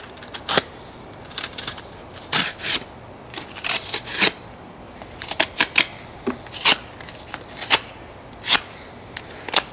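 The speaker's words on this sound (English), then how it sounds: "This is what you're going to use this for, in my opinion. Cutting cardboard." A cheap Schrade SCH222G folding pocket knife slices through cardboard in a quick run of sharp, irregular scraping and tearing bursts, close and crisp, with brief pauses between cuts and no talking.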